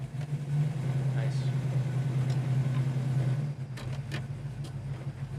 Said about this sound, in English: I want to go through the gears a little bit, just show how nice the tranny works.